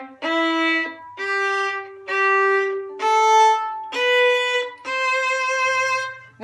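A student string orchestra bows a short passage as separate notes without the slur: six sustained bowed tones in an even stepwise line, each cleanly detached, with no talking.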